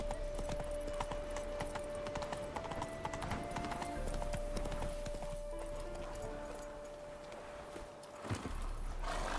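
Roach the horse trotting in The Witcher 3, a steady, moderately paced clip-clop of hooves with faint jangling tack over a low ambient hum, easing briefly near the end.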